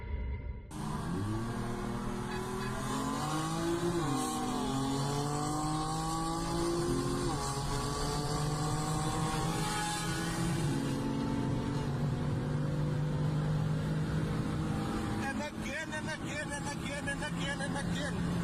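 A racing car's engine revs and shifts continuously during a street race, heard from inside the cabin, with rising and falling tones under steady road and wind roar.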